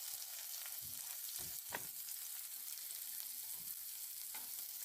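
Onion added to hot oil with cumin and mustard seeds in a kadhai, giving a steady close hiss of frying with a few stirring scrapes and no talk.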